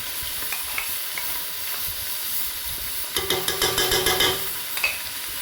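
Garlic paste fries in a pot with a constant hissing sizzle, then a burst of rapid spoon scrapes and stirring clatter near the end. No one speaks.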